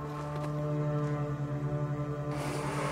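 A deep, sustained horn blast with a steady low drone from the video game Brothers: A Tale of Two Sons, holding evenly before a brief shift near the end, with no talking.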